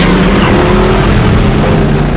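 Loud, steady engine roar of a vehicle driving at speed during a night chase by a haunted killer truck, a continuous dense rumble that fills the whole stretch with no voices.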